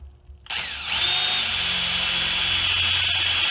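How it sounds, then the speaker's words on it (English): Power drill with a half-inch bit boring into rubber: the motor spins up sharply after a brief quiet start, then holds a loud, steady whine close by with no talk over it. "And I'm going to drill with a half inch."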